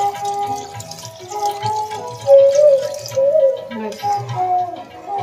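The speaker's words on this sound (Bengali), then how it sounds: "তো এর মধ্যে আমি মটরের সেদ্ধ করা জলটাকে দিয়ে দিচ্ছি।" Water left from boiling peas poured into a pan of ghugni made with mutton fat, a steady trickling pour with dripping splashes, close and moderately loud.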